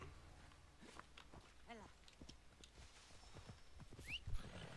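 Horse hooves clip-clopping in Assassin's Creed Odyssey, a faint, irregular patter of steps with a soft whinny-like sound and a sharper click near the end, low in level with game ambience around it.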